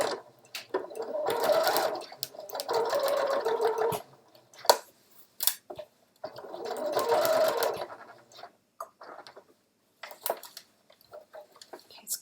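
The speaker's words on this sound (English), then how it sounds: "I'm going to sew my seam allowance" A home sewing machine running a straight stitch along a seam allowance on scrubs fabric, with several sustained whirring runs broken by pauses and small handling clicks, close up.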